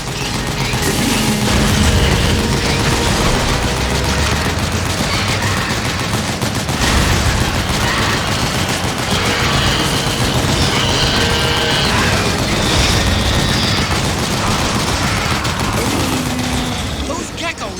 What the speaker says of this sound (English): Shoot the Gekko with a machine gun!